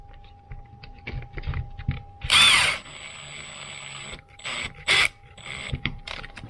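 A power driver with a speed tip drives small screws while an HSP rear-wheel-drive RC car's steering is being worked on, giving several short, loud whirring bursts with quieter handling clicks and rustles between them.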